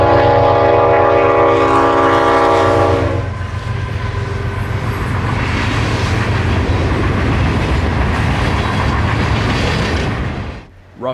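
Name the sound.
train horn sounding as train passes through rural Zephyr Hills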